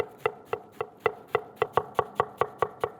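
Knife shaving a quartered savoy cabbage thinly on a board, a brisk even series of about a dozen crisp close cuts, no speech.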